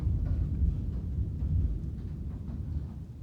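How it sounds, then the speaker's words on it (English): Distant storm thunder rolls low and steady, a faint continuous rumble with no other sounds over it. "And I don't know if you can hear the thunder."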